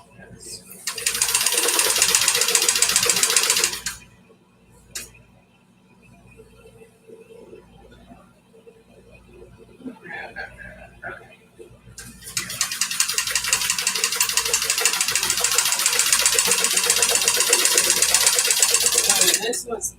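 A sewing machine stitches through seed catalog paper in two long runs of fast, rhythmic mechanical clatter, close and steady, separated by a quieter pause with faint handling noises.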